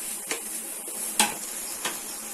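Pasta masala with carrots and other vegetables being stirred in a pan, three distinct scraping clinks of a spoon against the metal over a soft background sizzle, no speech.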